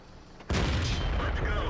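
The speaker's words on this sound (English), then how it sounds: "Look, they shot off my track again." A tank is hit and its track is shot off in World of Tanks: after a faint lead-in, a sudden loud, heavy impact boom bursts in and rumbles on to the end.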